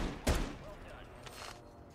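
Unsuppressed gunfire in a video game: a single sharp shot near the start, followed by quieter, softer game ambience with a couple of faint later bursts.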